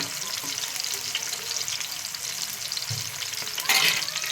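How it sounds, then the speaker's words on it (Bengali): Fish frying in a pan on a stove turned up from low heat, a continuous close crackling sizzle with faint scraping, and a brief louder hiss burst near the end. "মাছগুলো ভাজতে শুরু করেছি আমি।"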